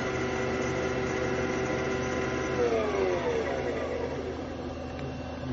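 A Braillo Cut paper cutter powers on and initializes with a steady mechanical hum and motor whir, holding at an even level throughout.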